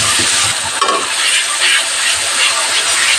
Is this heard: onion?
yes